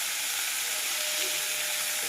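Cumin, salt and other ingredients fry in a pan for a liver dish, giving a steady, dense sizzle and hiss that runs unbroken and close throughout, with no speech.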